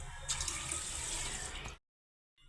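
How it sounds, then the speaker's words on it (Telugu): Water for rice and moong dal runs into a pressure cooker in a steady rushing stream for under two seconds, then stops abruptly. "బియ్యానికి రెండు గ్లాసులు నీళ్ళు"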